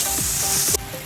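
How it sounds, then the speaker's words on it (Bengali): Boiled drumstick seeds drop into hot spices in a frying pan for a Bengali dried fish curry, giving a loud close sizzle with a few stirring scrapes that cuts off abruptly near the end. "বিচিগুলো সেদ্ধ করেছি, ওইটা মশলায় দিয়ে দিচ্ছি।"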